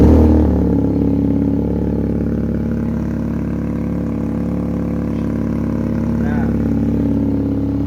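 A Benelli TNT 250 four-cylinder motorcycle engine idles with a steady, throbbing rumble, a brief louder burst at the start, continuing evenly at close range.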